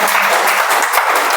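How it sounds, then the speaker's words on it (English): An audience at a Toastmasters meeting claps in a dense, steady burst of applause, loud and close throughout. "Huge round of applause, ladies and gentlemen."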